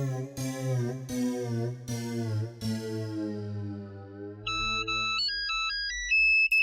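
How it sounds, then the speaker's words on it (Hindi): A telephone ringtone for an incoming call plays alone, loud and close: repeated sustained tonal notes in a rhythmic pattern, then a bright, quick electronic melody. "पोपटलाल अगर पार्टी के लिए फोन किया है तो हाँ बिल्कुल"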